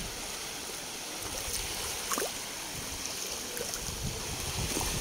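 Steady broadband wash of sea water at a private beach resort, a continuous close rushing and lapping with faint splashes, no voices.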